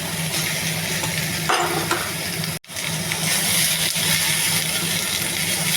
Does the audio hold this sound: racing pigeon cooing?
no